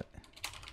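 Quick keystrokes on a computer keyboard as an email address is entered into a web testing tool, a short burst of soft, close taps with no talking.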